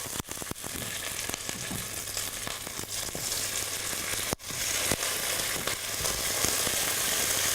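Skinless chicken drumsticks, seven or eight of them, sizzling loudly in a frying pan for Spanish chicken, with a steady spitting hiss and a few clatters as the pieces are set down, near and without talk.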